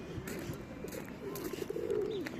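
Pigeons in a park in Italy give soft, repeated throaty coos close by, set against faint outdoor background noise.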